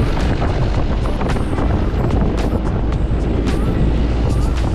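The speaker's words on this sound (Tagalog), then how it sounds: "Malakas yung hangin." Strong wind roars steadily against the microphone near the sea in Manukan, a dense, loud rumble that never lets up, with no one speaking.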